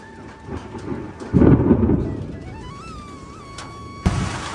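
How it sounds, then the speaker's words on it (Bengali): Light drizzling rain falls on a village garden house on a dark morning: steady soft hiss with scattered drops, one heavier rumbling surge near the start and a sharp burst near the end. "ফাইনালি বৃষ্টি নেমেই গেল এই যে ঝিরে ঝিরে বৃষ্টি"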